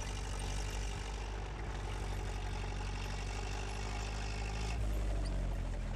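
A tank engine in Battlefield 1 idles with a low, steady, rumbling drone, constant and fairly close throughout, with no voices.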